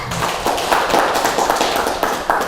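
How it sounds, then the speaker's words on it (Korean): Audience clapping in a Buddhist lecture class on the Dhammacakkappavattana Sutta, a steady close-up patter of many hands with irregular bursts, no talk over it. "박수."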